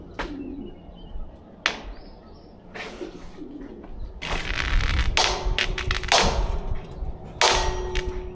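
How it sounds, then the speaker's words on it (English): Pigeons coo and flutter near a fishing spot, mixed with metallic clangs and bursts of wind rush, at moderate volume with no voices. "Get out of here, birds."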